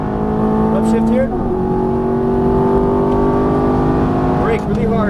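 A Ferrari F430's engine drones loud and close at steady high revs, its tone stepping down briefly with a gearshift before pulling on, with a faint second shift near the end.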